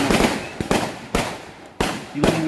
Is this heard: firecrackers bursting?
yes